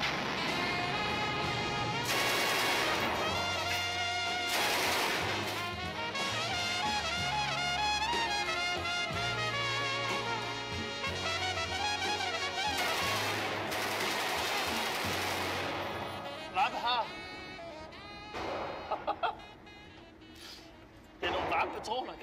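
Bursts of gunfire, including rapid machine-gun volleys, crack at an outdoor shooting range, loud and repeated in clusters beneath music and people talking.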